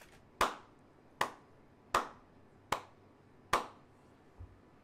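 Five slow, sharp hand claps spaced about a second apart, close and isolated against a quiet background, like a lone person giving ironic applause.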